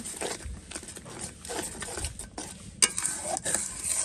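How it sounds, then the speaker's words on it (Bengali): Spices with chilli powder are stir-fried in a pan, with a soft, low sizzle under busy scraping and clinking of a spoon against the pan, close and uneven, plus a sharp metallic clink near the end. "এরপর হচ্ছে এটাকে ভালো করে একটু কষিয়ে নেব"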